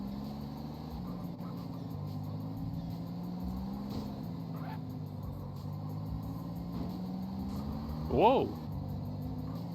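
A stolen car drives steadily in GTA San Andreas, its engine a continuous low hum that shifts slightly in pitch, with a brief exclamation from a voice near the end.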